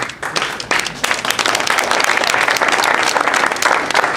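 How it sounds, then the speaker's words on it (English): Guests at a reunion banquet break into loud applause. Dense clapping builds quickly and fills the room, staying close and steady for several seconds. "before we have round of applause"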